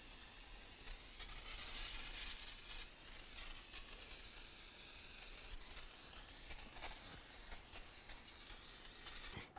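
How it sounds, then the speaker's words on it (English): Brake parts cleaner sprayed around the hub and studs during a rear brake job on a 2014-2018 GMC Sierra 1500, heard as a steady broadband aerosol hiss lasting several seconds, close and fairly loud, with no talk. "Now let's continue on with some parts cleaner and clean the entire area."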